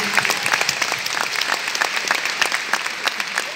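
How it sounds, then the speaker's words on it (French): An audience at a Palestinian solidarity exhibition event in Vitry-sur-Seine bursts into applause, dense rapid clapping that stays steady and close for the whole stretch, with no voices standing out. "Vous pouvez vous applaudir"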